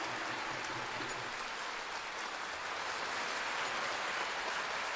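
A crowd at a government ceremony in Lalpania applauds, producing a dense, steady, hissing wash of clapping that fills the whole stretch evenly and never breaks, with no voices rising above it.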